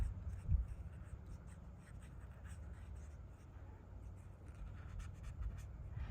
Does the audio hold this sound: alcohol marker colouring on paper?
yes